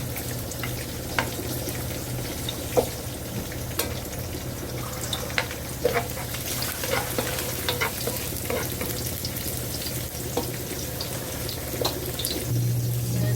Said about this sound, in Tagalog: Mainit na ang kawali. Naglagay na ako ng mantika. Ililisan natin itong bawang.